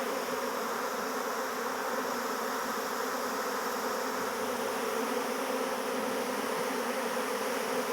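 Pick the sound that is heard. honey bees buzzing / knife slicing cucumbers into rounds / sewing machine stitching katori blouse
honey bees buzzing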